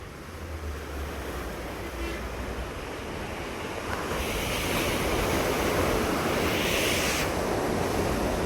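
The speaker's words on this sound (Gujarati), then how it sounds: "આ દરિયો છે ને કોઈ દી કાંઠો મૂકતો જ નથી. આ પાણી એટલે ને એટલે જ રહેશે." Sea waves wash onto the shore in a steady roar of surf mixed with wind buffeting, growing louder and fuller in the second half.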